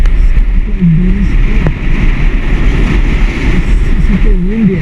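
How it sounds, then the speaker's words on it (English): Strong wind roars and buffets steadily for the whole stretch on a ski mountain at Mount Peter, with a droning motor beneath and a few brief whistling tones. "Super windy as well."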